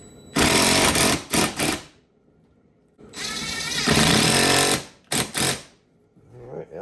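A power tool tightens the nut onto the wiper motor armature of a 2017 Ford F150, heard as two loud, close, buzzing bursts of whirring, each followed by a few short rattling pulses, with quiet gaps between.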